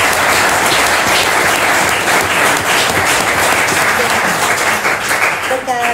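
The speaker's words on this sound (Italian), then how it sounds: "vorrei veramente, se mi consentite, un applauso all'Associazione Rossini" Dense, loud applause from a concert audience at the Rossini music association's season, continuous even clapping filling the whole stretch with a few voices faintly underneath.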